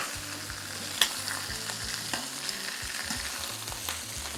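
BBQ chicken sizzles and crackles steadily in a hot pan just after being flipped, with a soft close frying hiss, faint low clatter and one brief sharp tap.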